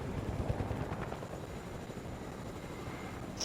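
A helicopter in a video game flies with a steady, loud rotor and engine drone that holds constant throughout, with no voices over it.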